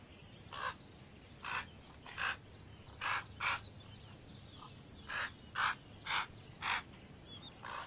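Crow nestlings in a nest at El Valle nature reserve give repeated harsh, rasping begging caws in a loose series of about a dozen bursts, fairly faint over a quiet background.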